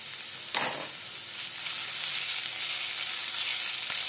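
Four crushed green chillies, half an inch of ginger and seven or eight garlic cloves hitting hot oil with onions, starting with a sharp burst and settling into a steady close sizzle and a faint stir.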